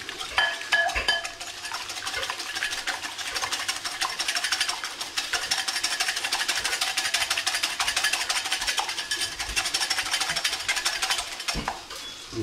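Egg and full fat milk whisked briskly in a bowl, a steady, continuous clattering scrape of the whisk against the dish that runs unbroken at close range, with no talking.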